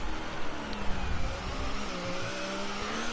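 A racing car engine revs steadily down the back straight of an American GP sim race, a loud, continuous high-pitched drone with slight pitch shifts and no talk over it.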